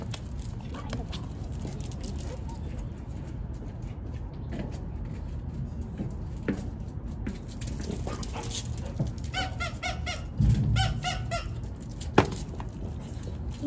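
A dog whimpers and lets out squeaky, whiny sounds amid people talking, with higher-pitched squeaks clustering toward the end and a sharp bump near the close.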